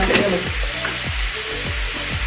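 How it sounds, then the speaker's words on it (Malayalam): Mutton pepper fry sautéing in a pan gives a loud, steady sizzle, broken by a few soft scraping stirs of a spatula, with no talking. "ഇത് വഴന്ന് വരട്ടെ. കുറച്ച് ഉപ്പിടുകയാണ്."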